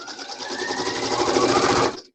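A sewing machine runs steadily and loudly for about two seconds, its rapid stitching rhythm continuous before stopping abruptly, with no talking.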